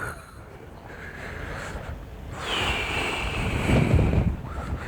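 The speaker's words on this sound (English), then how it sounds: "it's so cold. Like chilly wind." Cold, chilly wind blows across a foggy volcano summit at Litlihrutur in Iceland at night, a broad rushing roar with buffeting gusts that build toward the end.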